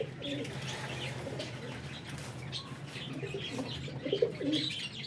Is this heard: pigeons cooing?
yes